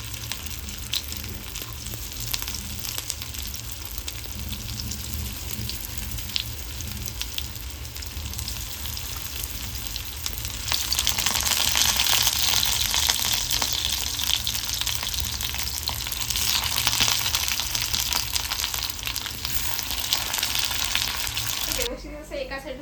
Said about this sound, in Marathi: व्यवस्थित असं एका साईडून फ्राय करून घेऊया।